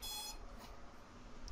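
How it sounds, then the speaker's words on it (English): An alarm clock beeps in a high, steady electronic tone for about a third of a second, then stops, leaving quiet background hiss; faint and heard alone. "Forgot the alarm clock."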